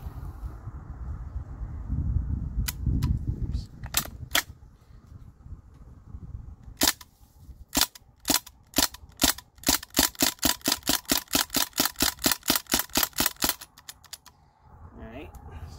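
A Crosman DPMS SBR CO2 BB gun fires at a grapefruit: first a few sharp, separate snapping shots, then a fast, even full-auto burst of crisp cracks that ends abruptly. Low wind rumble sits underneath.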